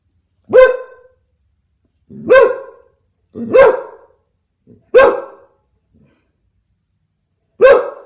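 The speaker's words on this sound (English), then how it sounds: "What a good dog." A dog barks close and loud, five sharp single barks with pauses of about a second between them, alone, with no talk over them.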